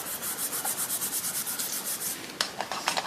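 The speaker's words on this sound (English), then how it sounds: "Burnish it a little bit." Quick rhythmic rubbing as paper folds of a mini album are burnished, a close, dry swishing repeated steadily, then a few sharper scuffs and taps near the end.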